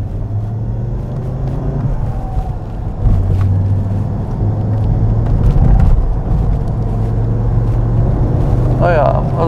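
A 1983 Audi Quattro Coupé with a five-cylinder turbo engine pulling away under load, a deep steady engine drone that swells as it accelerates, heard from inside the car with talk over it.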